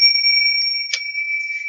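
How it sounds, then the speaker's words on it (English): Hand bells ringing with a steady, bright sustained tone, one or two fresh strikes adding brief shimmer, close and loud, no voices. "use these bells and just sending this vibration, this sound into your home"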